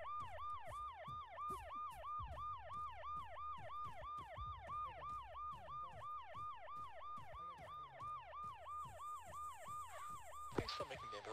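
An ambulance siren in the video game Arma 3 wails in a steady, fast two-tone cycle, loud and continuous throughout, with engine rumble beneath and a sharp knock near the end.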